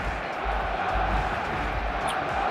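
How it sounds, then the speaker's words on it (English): A full stadium crowd in an eFootball match, a steady dense roar of many voices with a low rumbling undertone, continuous and unbroken throughout. "The stadium is full of noise and energy."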